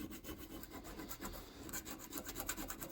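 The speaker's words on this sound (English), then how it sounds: "we'll just use some little needle files" Small needle files rasp against a metal Bowie knife sheath being fitted, a steady close scraping with repeated strokes, no voices.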